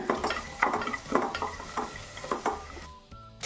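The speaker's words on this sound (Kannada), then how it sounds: "ಹಾಗೆ ಹೆಚ್ಚಿರುವ ಈರುಳ್ಳಿ ಮತ್ತು ಮೆಣಸನ್ನು ಹಾಕೋಣ ಅದ್ರ ಜೊತೆ ಹಸಿ ಬಟಾಣಿ ಮತ್ತು ಗೋಡಂಬಿನ ಹಾಕೋಣ ಈಗ ಒಂದು ಎರಡು ನಿಮಿಷ ಫ್ರೈ ಮಾಡೋಣ" Onion, chili, green peas and cashews fry in a pan, a steady close sizzle broken by repeated scraping stirs of a utensil against the metal, with no voices.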